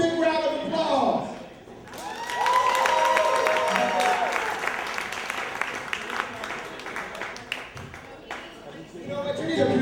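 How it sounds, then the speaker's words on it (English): An audience at a downtown improv comedy show claps and cheers, a sustained wash of applause that rises after a brief lull, with a voice talking over it at the start and end. "All right, one more time, y'all. Big round of applause."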